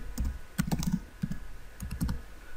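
Arabic text typed on a computer keyboard, heard as close, crisp clusters of key clicks in short irregular bursts separated by brief pauses, with no voice.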